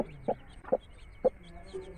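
A broody Aseel hen, a native fighting breed, gives three short clucks close by at a steady, evenly spaced pace over a quiet background.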